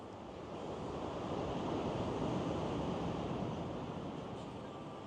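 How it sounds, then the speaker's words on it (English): Ocean surf rolling in at high tide with a light swell at a beach among palm trees and cacti, a broad, continuous wash of breaking water that swells up after the first half-second and holds steady, with wind noise and no talk. "Tide's in, and a little bit of a swell going on today"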